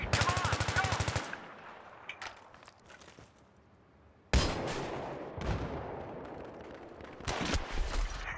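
Automatic rifle fire in the video game Battlefield 3, multiplayer on Kharg Island, with a loud rapid burst at the start, quieter scattered shots, then more close bursts later.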